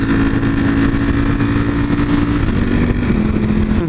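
A motorcycle engine runs loud and close throughout, a steady, gritty drone whose pitch holds, then dips and resettles as the rider shifts through the revs.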